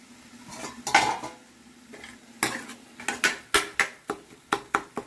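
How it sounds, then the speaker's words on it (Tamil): Metal utensil stirring and scraping a paste in a pan for pepper crab gravy, a series of sharp clinks and scrapes that quicken into a steady rhythm toward the end, with a faint sizzle underneath and no talking. "பேஸ்ட்டை கொஞ்சம் நல்லா தாளிச்சு விட்டுட்டு இந்த பச்சை ஸ்மெல் கொஞ்சம் போகிற வரைக்கும் தாளிச்சு விட்டுடலாம்"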